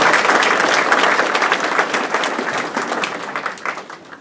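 Sustained applause from an audience welcoming Mayor Colin Reed at an N.C. Honor Flight send-off event, dense steady clapping that fills the whole stretch and thins slightly toward the end.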